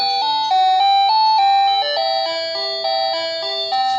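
An AA battery-powered wireless doorbell plays a different melody, a steady run of clear bell tones stepping up and down for several seconds, no voices.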